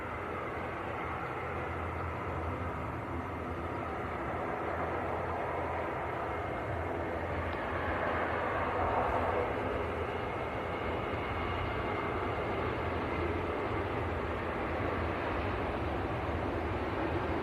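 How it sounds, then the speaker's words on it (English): A Ryanair airliner bound for Dublin rolls for takeoff at Manchester Airport, a steady distant roar of jet engines that swells slightly midway and holds as a continuous broad rumble. "Ryanair to Dublin rolling"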